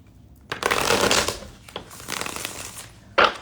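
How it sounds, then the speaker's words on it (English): Tarot cards being shuffled by hand close up, with papery riffling and slapping in a few bursts separated by short pauses, a last sharp snap at the end, and no talk. "let me shuffle up my cards"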